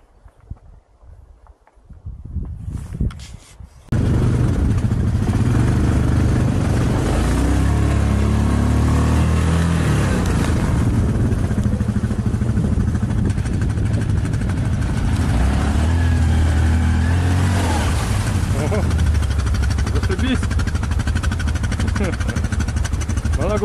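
A Hisun ATV quad bike drives through mud near a river, its engine droning loudly and steadily after a quieter start with rustling and handling noise, the rough motor tone wavering as it churns along.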